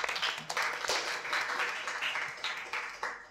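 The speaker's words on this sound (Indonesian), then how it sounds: "Tepuk tangan untuk kelas 11." A school audience claps for the class 11 students, a loose burst of applause in uneven waves that rises and dips over a few seconds, fairly close with no speech over it.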